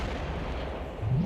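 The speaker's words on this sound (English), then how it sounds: "he'll just basically just run into the pipe bombs and explode like that" A pipe bomb explodes in the Killing Floor video game, a dense, continuous roar of blast and rumble that swells louder toward the end.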